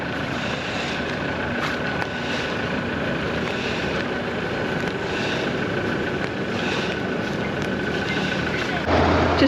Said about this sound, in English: Just driving out of Yirrkala